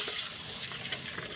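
Tap water runs into a cooking pot while carbonara is being made, a faint, steady splashing rush that lasts only a moment, with no talking over it.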